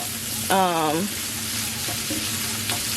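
Tiny shrimp sizzle and fry in a pan as they are stirred around, a steady close crackle with a brief voice-like tone cutting in early.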